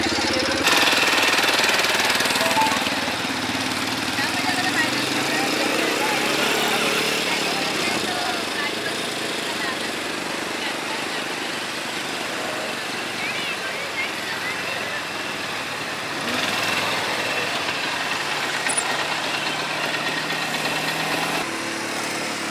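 Motorbike engine running steadily and loud throughout a ride at Nagaon Beach, Alibaug, with a constant rough drone and wind noise close to the microphone.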